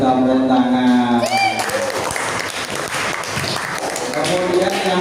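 Applause from a classroom of students, a brief burst of clapping that starts after a moment of tonal sound and continues fairly loud to the end, with some voices mixed in.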